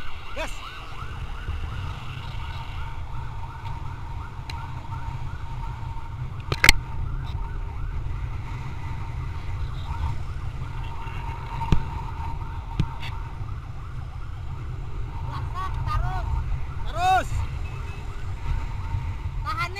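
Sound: ambulance siren during escort to hospital

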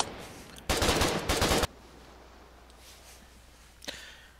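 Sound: submachine gun firing in the video game Foxhole

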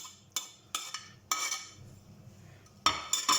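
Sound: stirring spinach cake batter with a utensil

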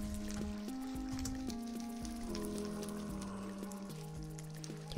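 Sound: water flowing away in Minecraft, from a video game

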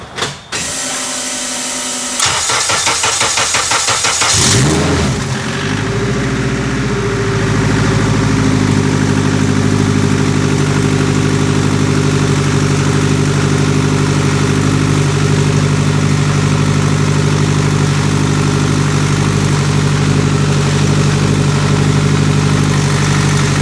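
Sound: 800hp AWD Honda Civic engine idling with new turbo

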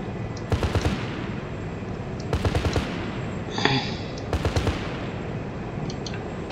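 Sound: cannon firing from aircraft in ArmA 3 video game

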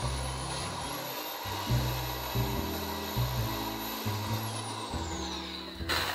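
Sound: drilling into bamboo

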